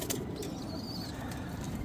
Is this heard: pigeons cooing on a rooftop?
yes